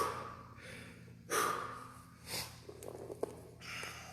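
Heavy, forceful breathing during a core training workout: a few loud gasping exhales and sharp snorting breaths burst out over steady background noise, close to the microphone.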